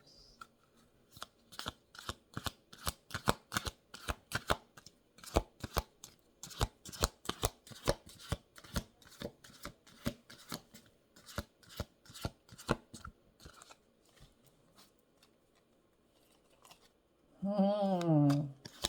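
Tarot cards are shuffled close by in a long run of quick, crisp riffling slaps that fade toward the end, followed by a short burst of talking.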